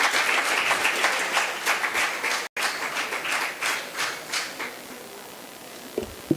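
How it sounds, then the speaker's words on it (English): A conference audience gives a round of applause as collective gratitude at the close of an international conference, many hands clapping steadily at close range, tapering off into scattered claps and a few knocks near the end. "Please do join with us for a great round of applause as a collective gratitude."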